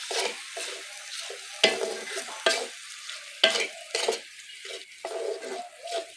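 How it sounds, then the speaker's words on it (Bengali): Spice paste with cumin powder and salt being fried and stirred in oil for chicken kosha: repeated close scraping strokes of a spoon, each bringing a short sizzling burst, with quiet pauses in between and no speech. "মশলাটা কষিয়ে নিয়ে এতক্ষণ না তেল ছাড়বে"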